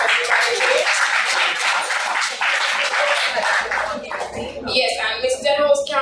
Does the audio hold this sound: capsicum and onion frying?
no